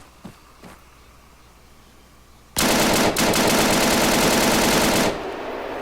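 A full magazine is emptied from a gun in the video game Arma 3 with the Ravage zombie mod, a loud rapid automatic burst of gunfire lasting a few seconds after quiet ambience and a couple of soft clicks.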